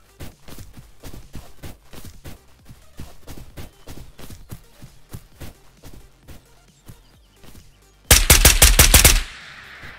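Automatic fire from an H&K G36K rifle in a multiplayer shooter video game: a steady run of rapid shots for about eight seconds, then a louder, denser final burst near the end.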